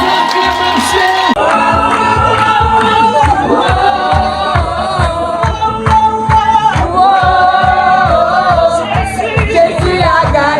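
Wedding guests at a Marseille ceremony cheer and shout for the newly married couple, a loud continuous crowd roar with rhythmic clapping or stomping beats running throughout and music-like tones mixed in.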